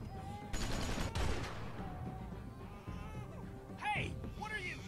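Game gunfire from The Walking Dead: a loud dense burst around the first second, then quieter scattered shots amid background game sounds and voices, with a sharp effect near the end.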